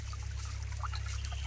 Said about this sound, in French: il y a le ruisseau